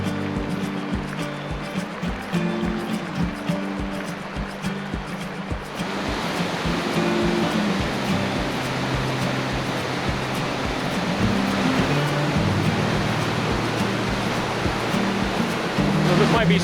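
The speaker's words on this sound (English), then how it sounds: "So this might be super loud, but taking a quick break here at the beautiful waterfall." Loud, constant rush of a waterfall on Colorado's Cascade Creek Trail, with a voice speaking over it early on before the roar fills in and dominates.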